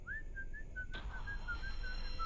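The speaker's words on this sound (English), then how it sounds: "we heard the whistle again too." An eerie, thin whistle sound effect from a horror animation wavers up and down in a faint, steady tone, broken by a soft thud partway through, with no voices.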